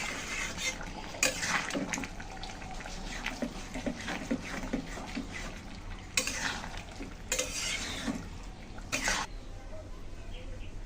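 Vegetable curry stirred in a pan over a low sizzle, with repeated scraping and clattering of the spoon against the pan, fairly close and moderately loud.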